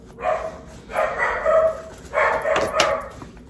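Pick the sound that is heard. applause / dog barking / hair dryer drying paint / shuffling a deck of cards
dog barking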